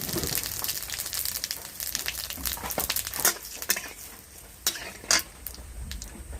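Whole cumin, bay leaves, dried chillies and garam masala fry in hot oil for chicken bhuna khichuri: a steady close sizzle with scattered sharp clinks and scrapes of a spoon against the pan.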